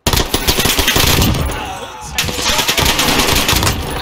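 Rapid automatic SMG fire in Call of Duty Warzone, loud bursts of fast rattling shots that pause briefly mid-clip before resuming close and dense.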